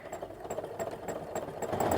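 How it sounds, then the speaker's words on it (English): A domestic sewing machine runs steadily during free motion quilting of swirl patterns, its motor humming with a rapid rhythmic needle clatter that speeds up slightly toward the end, close and alone. "Speed my sewing machine up a little bit because I keep wanting to move my hands faster."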